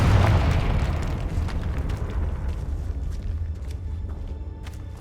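A Confringo spell explosion in the video game Hogwarts Legacy: one loud boom at the start that decays into a rumbling, crackling tail, with faint ticking afterward.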